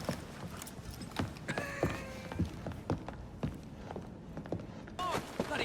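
Hooves clip-clop steadily at a walking pace from a horse-drawn carriage in Assassin's Creed, with creaks and street bustle around it and a voice speaking briefly.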